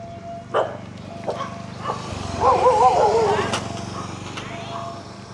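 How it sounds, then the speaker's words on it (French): Dogs bark at a passer-by in a Thai village of small houses, a few scattered barks and then a rough cluster of yaps at moderate distance over outdoor background noise. "ça commence à m'aboyer dessus et tout"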